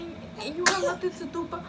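A baby's small, sharp sneeze bursts out in the middle of an adult speaking, short and close, with talking continuing around it.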